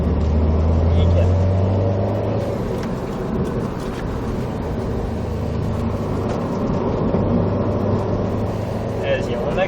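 A Subaru WRX STI on a driving-course track gives a steady, droning engine roar from inside the car as it accelerates, with voices talking over it.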